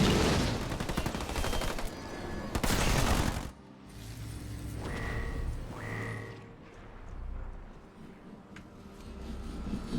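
Rapid gunfire from Halo Wars 2, a loud burst of dense crackling shots in the first few seconds, then quieter battle noise with scattered pops and two brief whining tones.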